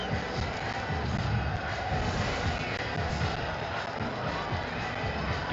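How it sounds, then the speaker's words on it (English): A cricket crowd cheers at an India A versus Pakistan A Rising Asia Cup 2025 match, a loud, continuous roar of many voices that holds steady throughout. "That got the crowd going"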